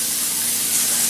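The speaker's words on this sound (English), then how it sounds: "we're going to take a 9 by 13 dish and we're going to spray it down" Cooking spray blasting into a 9 by 13 casserole dish, one continuous loud close aerosol hiss lasting about a second.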